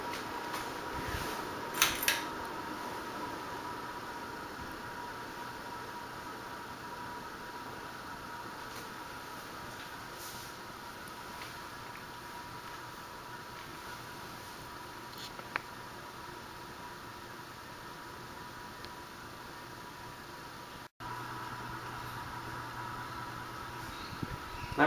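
A 1991 SMC Promo Deluxe 90 cm bottom-mount ceiling fan running on low speed, giving a quiet, steady whir with a faint airy hum throughout and one brief ticking sound near the start.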